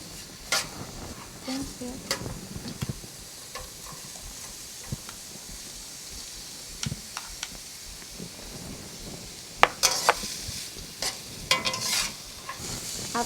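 Vegetables frying in a pan with tofu: a soft continuous sizzle broken by irregular clacks and scrapes of a utensil stirring against the pan, close, with a brief spoken voice.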